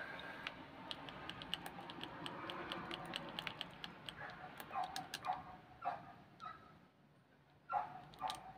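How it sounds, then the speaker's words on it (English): A dog barking outside, faint and distant, a few muffled barks coming through over quiet close-up keyboard and mouse clicking indoors. "There's a dog outside and completely ruining the vibe"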